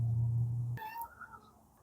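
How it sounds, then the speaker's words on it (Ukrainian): A kitten's short meow, close and clear, breaks in after a steady low hum in a garden among hydrangea beds, then fades into quiet rustling. "Кошенята бігають, де?"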